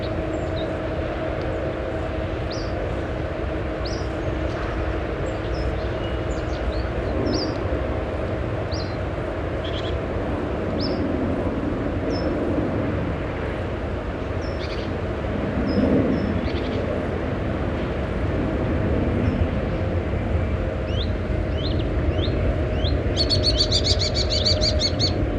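A common kestrel calls amid other birdsong in a garden setting, its sharp, repeated cries rising over a steady low rumble of distant train traffic and chirping small birds, including a burst of high chatter near the end.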